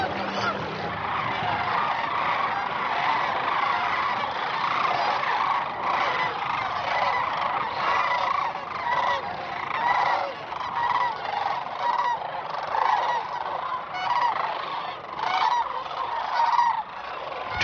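A flock of sandhill cranes gathered in spring on a Missouri River tributary, calling continuously with overlapping rattling, honking cries at moderate distance.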